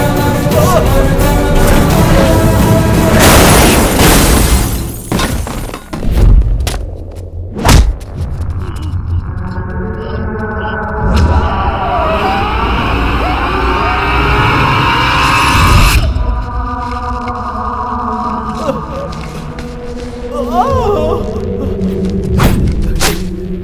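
An explosion in an action film scene hits with a loud boom and heavy thuds, followed by rumbling debris, shattering and mechanical clatter, with dramatic noise continuing throughout.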